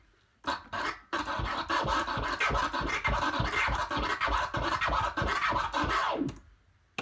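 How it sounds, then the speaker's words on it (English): Rapid, choppy DJ crab scratches on a record, a dense run of quick two-click cuts in a steady rhythm, loud and close, with no talking. "So that would be your crab 2-click."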